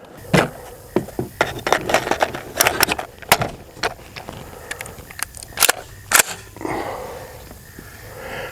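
Sharp gunshot cracks from an AR-15 pistol fired while sighting in a Sig Romeo 5 red dot, a string of loud, close reports at irregular intervals with quieter gaps between shots.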